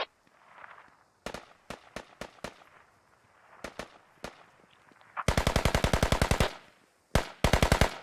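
Video game gunfire from a battle: single sharp shots pop in an uneven pattern, then a long rapid automatic burst, then more quick bursts, all loud and close against a quiet background.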